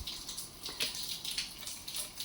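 Motor oil drips from a Ducati Multistrada V4S motorcycle during an oil change, a quiet, close, irregular patter and trickle with no talking.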